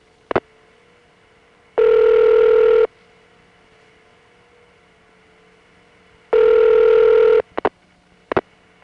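Telephone signalling on a 1977 Brooklyn panel exchange: two steady tone bursts about a second long, separated by quiet, with brief clicks at the start and end, no voices.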